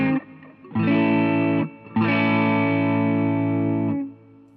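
Overdriven electric guitar through a Vox AC30-style amp with a gritty, breaking-up tone, played in two long sustained chords with a short gap between, ringing out alone.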